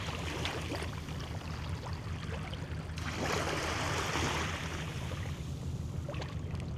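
Waterfront ambience at the harbour in Ullapool in late afternoon: a steady wash of lapping water and light wind, with a brief swell of rushing noise midway, no voices.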